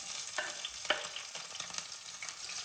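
Green chilies sizzle and crackle steadily after being dropped into heated oil in a cooking pot for an egg curry, with a dense hiss and a few sharper pops, fairly close and with no talking.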